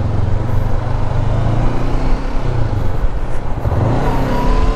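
A 2024 Honda NX500 500cc motorcycle pulls hard through second gear on a test ride, its engine drone loud and close under heavy wind rush, with no talk.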